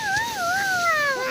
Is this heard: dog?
yes